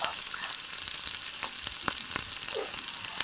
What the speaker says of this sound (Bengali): বাটিটা যে দিয়েছিলাম ধনেপাতা লঙ্কার বাটির জল ধুয়ে, সেই জলটাই দিয়ে দিলাম।